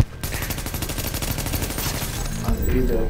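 Dense, rapid gunfire from the video game Tom Clancy's The Division crackles in quick automatic bursts. The shots are loud and continuous throughout, with a heavier thump near the end.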